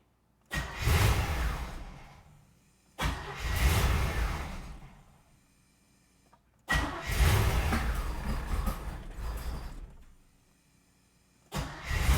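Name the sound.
car engine revving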